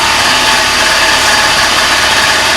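A Honda Dio scooter engine runs at a steady, loud idle, with a dense even drone and no breaks throughout, sounding close by and alone, with no talking.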